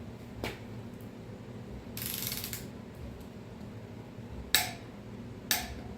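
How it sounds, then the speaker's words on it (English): Ratcheting clicks of a torque wrench tightening engine studs and nuts on a 1939 Ford 9N tractor, a few brief sharp clicks and a short ratchet burst at close range over quiet background hum. "And it says if you've got studs and nuts, torque them to 55."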